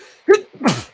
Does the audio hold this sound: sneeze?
yes